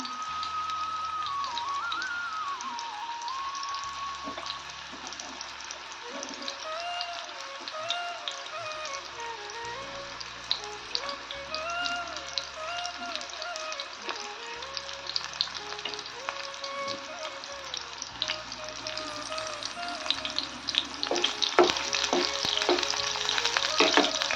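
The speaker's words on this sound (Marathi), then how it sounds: "आपली कापलेली दोडकी आप तळून घ्यायची थोडी या प्रकारे तळून घेऊया" Sliced ridge gourd fries in a little hot oil with a continuous, even crackle and sizzle, while a melodic tune plays faintly in the background throughout.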